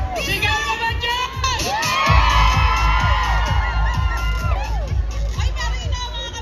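Large outdoor festival crowd on Chater Road in Central, Hong Kong, shouting and cheering loudly and continuously, with children's shrieks and whoops over a thumping beat.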